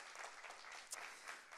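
Congregation at a church service giving a clap offering: dense, steady applause from many hands filling the room, fairly faint and continuous with no voices standing out.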